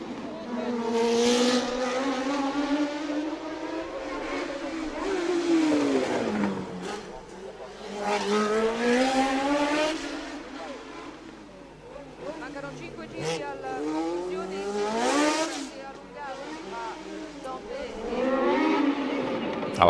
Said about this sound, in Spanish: La bajada del portier para Keke Rosberg, el auto de Patrese que va a seguir ahí